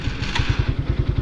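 A Legend150 motorcycle engine runs after a battery replacement, giving a close, steady, rapid thumping idle over a brief stretch.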